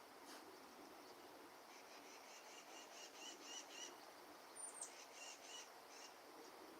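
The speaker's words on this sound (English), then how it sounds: "I'm hearing other birds, not just crows." Several birds call outdoors, faint and distant, a series of short repeated chirps and calls over a quiet background hum of insects, with no voices.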